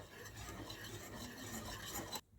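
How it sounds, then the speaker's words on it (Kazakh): Boiled custard cream made from two eggs being stirred continuously in a pot on the stove, a steady scraping swirl up close with no talk, ending abruptly. "Енді осыны тоқтатпай бұлғап тұрамыз"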